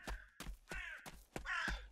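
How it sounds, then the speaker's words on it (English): Crows in the forest scene of the video game Unsung Warriors give several harsh caws in quick succession, close and clear with no talking over them. "Hey, little birds."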